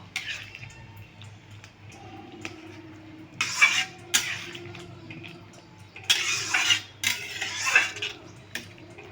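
A spoon stirs chilli chicken in a pan after water goes in, giving bursts of scraping and clattering metal that come and go in several rough strokes over a low steady hum.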